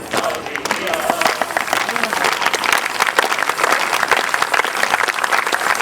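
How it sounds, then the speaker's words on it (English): Conference audience clapping at a 2006 international gathering, sustained loud applause from a large crowd filling the whole stretch, with faint voices mixed underneath. "Let's clap to them."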